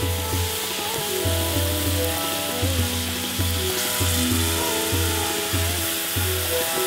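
Steak sears in a very hot pan seasoned with Japanese soy sauce, giving a steady, loud sizzle with rhythmic low thumps of stirring or handling throughout.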